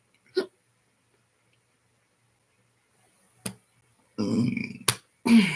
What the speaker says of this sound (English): That hiccup got caught in my chest.